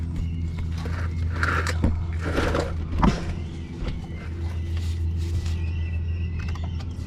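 A belt tensioner near the AC compressor on a Chevy Malibu engine rattles steadily over a continuous running-engine drone, close up, with scattered clicks and knocks.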